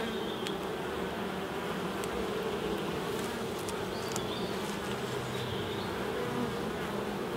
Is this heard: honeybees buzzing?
yes